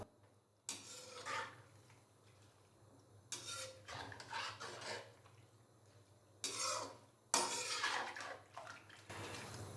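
A spoon scrapes and stirs through chicken karahi in a pot in several separate bursts, with quiet gaps between the rubbing, clinking strokes.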